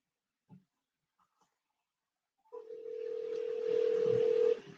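A telephone call being dialed and forwarded to an automated line: a few faint clicks, then a steady, fairly loud tone holds for about two seconds before cutting off.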